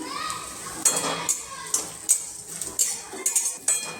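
Grated coconut and coriander seeds are dry-roasted in a pan for an egg curry, with a utensil scraping and clinking against the metal in irregular, fairly close taps and scrapes, and no talk over it.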